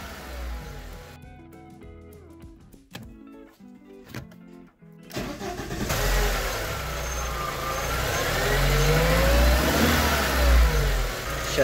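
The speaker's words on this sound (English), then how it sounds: "start the engine and let it idle for a couple of minutes" A car engine with oil mixed into its coolant cranks and starts after a few brief attempts, then settles into a steady, rumbling idle that continues at a constant moderate level.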